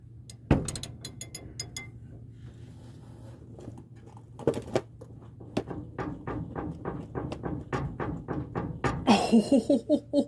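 A ratchet tightens a radius arm bushing bolt on a 1976 Ford pickup truck, first a few sharp clanks, then a long series of evenly spaced metallic clicks that speed up and grow louder toward the end.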